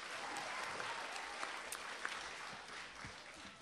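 Audience at a spelling bee applauding contestants, a steady wash of clapping that stays fairly soft and even throughout without speech.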